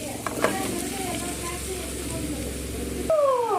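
Pumpkin and tomato sautéing in a pan give a steady, close sizzle with light stirring scrapes throughout, and a voice speaks briefly near the end.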